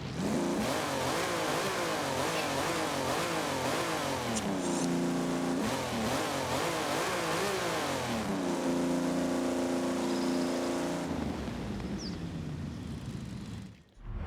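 A Lamborghini engine in Forza Horizon 5 revving up and down repeatedly, loud and continuous, with rising and falling pitch sweeps before settling into a steady high drone.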